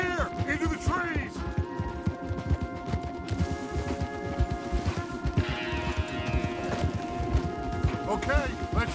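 Horses' hooves clip-clop through the trees in the video game Red Dead Redemption 2, a busy, steady rhythm of hoofbeats from several horses near and clear, with a brief whinny and a low musical drone underneath.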